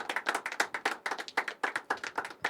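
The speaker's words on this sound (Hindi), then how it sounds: "तालियां बजती रहनी चाहिए।" Audience at a poetry open mic clapping for the next performer, a steady patter of hand claps in quick irregular bursts, moderately loud and close, with no talking over it.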